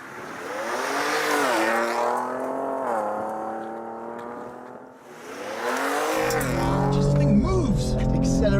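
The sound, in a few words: Ford Ranger Raptor accelerating off the line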